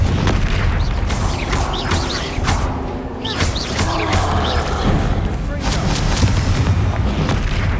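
A Confringo fire spell in Hogwarts Legacy bursts amid a game battle against an angry troll, with booming explosions and heavy impacts layered over continuous combat noise and shouted spell names.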